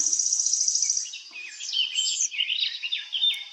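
Small yellow-green birds perched on a rose plant chirp nearby, first with a rapid high trill and then with quick varied tweets and twitters, clear and fairly loud against a quiet background.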